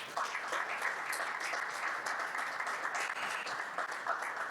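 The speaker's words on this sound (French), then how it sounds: "Est-ce que vous pouvez applaudir pour vous-même?" Steady applause from a live talk-show audience in Kinshasa, dense and even throughout, with no voices rising above it.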